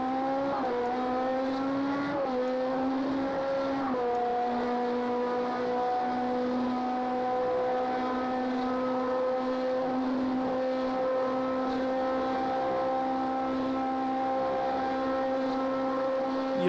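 Race car engine at Le Mans in the video game Project CARS 2, a steady loud harmonic drone with a couple of quick gear-shift dips early on, then holding at a constant high pitch throughout.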